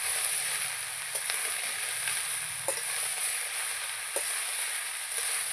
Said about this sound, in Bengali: একটু নেড়ে চেড়ে দেবো